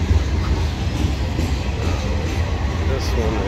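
An old CSX gondola and other freight cars of CSX train M372 roll past on the former B&O mainline, a steady close rumble with rail clatter filling the whole stretch without pause.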